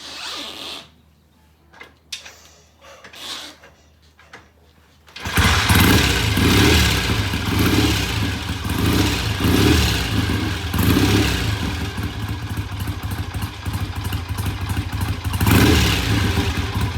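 A 1965 BSA motorcycle starts after a few seconds of quiet fumbling, then its engine runs loud and close with a steady rough mid-pitched thrum, revving and pulling away on a test ride.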